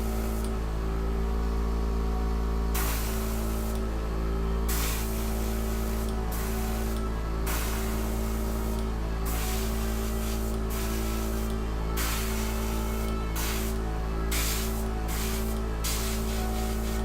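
An airbrush sprays paint onto miniatures, a steady airy hiss in repeated bursts separated by short pauses, running continuously over a constant low background hum.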